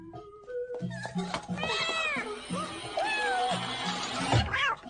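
A hungry cat meows repeatedly, a series of rising and falling wavering cries close to the microphone, overlapping with background music and other noise.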